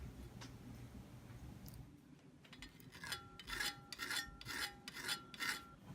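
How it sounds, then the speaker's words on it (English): A metal file deburrs the edges of a steel battle axe head in a series of close, rhythmic rasping strokes, roughly six in quick succession, with no talking. "So I went in with a file and cleaned up the edges"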